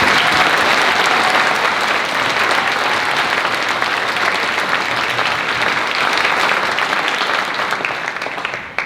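Sustained applause from a concert audience at a gala concert, dense and loud clapping from a large crowd that carries on steadily for several seconds before starting to fade at the end, with no talk over it.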